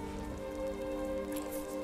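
Steady rainfall in the Skyrim video game, a soft continuous patter on surfaces with a low tonal background hum underneath, no voices.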